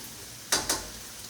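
Garlic in a hot pan gets stirred, giving two quick scraping, sizzling bursts over a low, constant frying hiss, close and fairly quiet, with no voices.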